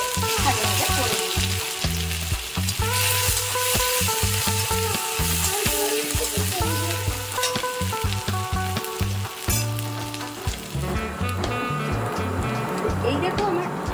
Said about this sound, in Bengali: আদা আর রসুন একসাথে আমি থেতো করে রেখেছিলাম, সেটা দিয়ে আমি খানিকক্ষণ একটু ভাজা ভাজা করে নেব।